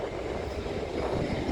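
A train rolls along the tracks below a station in Bjørvika, Oslo, a steady, continuous rumble heard from above at moderate distance with no talking.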